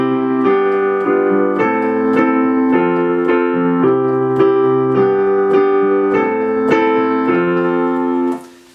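A worship-style piano plays a chord progression using inversions so that notes move only a little between chords. The chords are struck evenly and sustained close and clear, with about a dozen changes before the sound cuts off.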